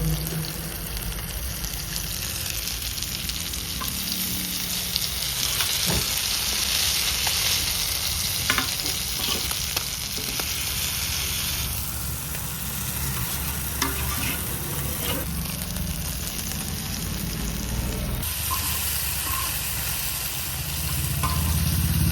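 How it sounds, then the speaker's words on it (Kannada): Fish coated in masala frying on a hot tava, with a steady, close sizzle and crackle that runs the whole time, plus occasional soft stirring scrapes. No one speaks. "ಇವಾಗ ಫಿಶ್ ತವಾ ಫ್ರೈ ರೆಡಿಯಾಗಿದೆ"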